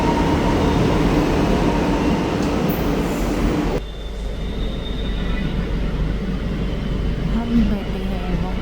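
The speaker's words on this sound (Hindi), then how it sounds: "आ गई मेट्रो" A metro train pulls into a station with a loud, steady rumble of wheels and carriages, then the roar drops to a lower hum as it slows, with a faint squeal near the end.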